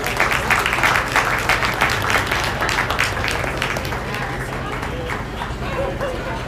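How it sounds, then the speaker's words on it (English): Crowd at a market lamb show applauding the kids who showed lambs, steady broad clapping that slowly fades, with voices talking over it. "Let's give all those kids a nice round of applause."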